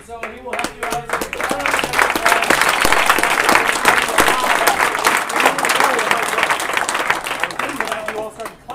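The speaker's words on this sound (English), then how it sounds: "You all started clapping." Audience clapping at a startup weekend closing event, irregular claps building into full applause that holds steady, with a voice speaking over the start and brief cheers mixed in.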